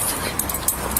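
A puppy at a car accident scene whimpers in a few brief, high, soft cries, close by over steady background noise.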